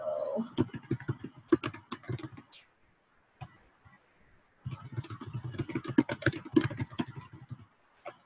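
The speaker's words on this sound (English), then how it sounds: "so I'm going to just type in, you can type in whatever actually" Close-up computer keyboard typing comes in two bursts of rapid, irregular key clacks separated by a quiet pause of a couple of seconds, crisp and near, with no voices.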